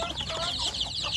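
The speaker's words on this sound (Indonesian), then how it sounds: "Ini ramai sekali, Sedulur. Ini alhamdulillah sudah besar-besar ya anak ayam kampung saya" Free-range village chicks chirp busily in a dense, overlapping chorus of high peeps close by, with a hen's cluck mixed in.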